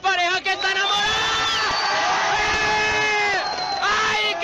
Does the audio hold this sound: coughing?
no